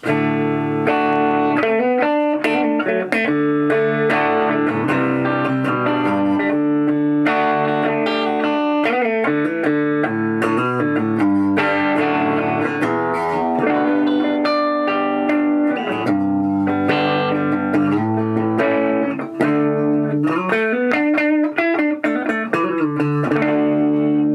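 Electric guitar playing chords and riffs through a lightly overdriven tube amp with power tube distortion, steady and loud, with a slightly edgy, crunchy breakup and no talking.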